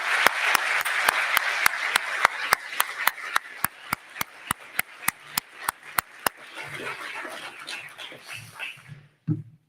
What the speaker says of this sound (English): let's give Dr. Trump another round of applause for her work at Boise State University.